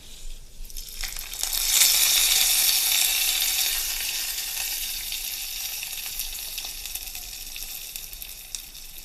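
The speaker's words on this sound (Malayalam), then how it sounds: "വറവിനായിട്ട് ഉലുവ, കടുക്, വറ്റൽമുളക്," Fenugreek, mustard seeds, dried chillies and curry leaves dropped into hot oil for a tempering poured over a ripe mango pulissery, bursting into a loud, close sizzle that slowly settles into a steady hiss.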